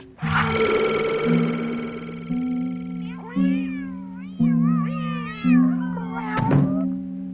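A cartoon cat character gives a series of loud, close meows with rising and falling pitch over a steady sustained musical drone, ending in a short thump.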